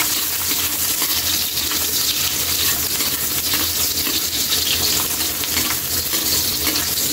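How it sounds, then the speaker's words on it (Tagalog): Onion and other ingredients sautéing in a pan for a Batangas-style soup dish, a steady close sizzle and crackle of frying with occasional stirring clinks, continuous and fairly loud with no talking. "Gigisa lang natin kunti kaili yung sangkap natin."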